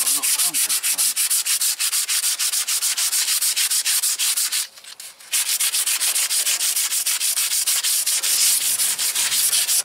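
Coarse, well-worn sandpaper rubbed by hand over a trailer's outer surface, a fast rhythmic scratching of even back-and-forth strokes, close and loud, with a brief pause partway through before the steady sanding resumes.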